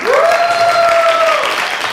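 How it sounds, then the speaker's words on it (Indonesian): A crowd at an MC school event in Surabaya claps loudly and steadily for two seconds, dense and close, while a sustained whistling tone rises and holds above the clapping. "Beri tepuk tangan yang meriah untuk kalian semua."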